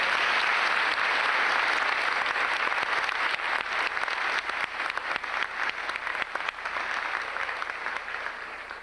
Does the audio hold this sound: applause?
yes